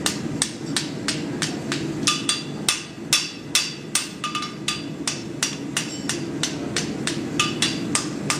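Hammer blows ring out on hot iron as a blacksmith finishes a plain horseshoe for a farrier competition, a fast steady series of sharp metallic strikes with a few brief pauses and no voices.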